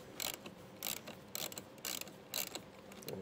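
A ratchet with a 10 mm socket loosening a battery terminal nut on a 2020 Kia during a trailer wiring install, five quick bursts of dense clicking in a steady rhythm, close and clear with no talking.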